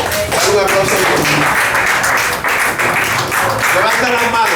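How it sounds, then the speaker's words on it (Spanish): A church congregation claps together during a lively Spanish-language worship service, the dense clapping running loud and continuous beneath a voice speaking over it. "Dale un aplauso a Dios"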